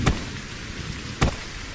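Steady rain hisses throughout in the video game Reign Of Kings, a broadband wash with two sharp knocks or thumps cutting through it, about a second apart.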